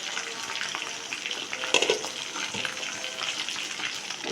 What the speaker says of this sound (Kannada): ಕಬಾಬು ಫ್ರೈ ಮಾಡ್ತಾ ಇದ್ದೀನಿ